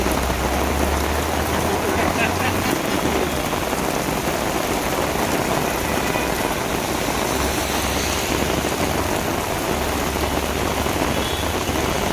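Heavy rain pours down during a Pandharpur Vari pilgrimage in Panvel, a dense, continuous hiss of drops striking surfaces nearby, with a low engine hum underneath at times.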